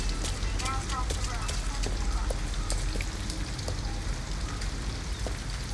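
Steady rain pours in the video game Detroit Become Human, a dense continuous patter with scattered drips and small taps throughout, fairly loud and unbroken.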